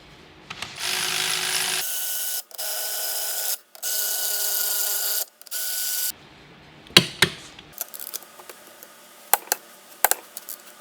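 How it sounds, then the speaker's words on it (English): Bolts on a car differential are tightened with a ratchet torque wrench. Several long buzzing ratchet runs are followed by scattered sharp metallic clicks and clanks that sound close by. "we're going to torque them down to 69 foot-pounds"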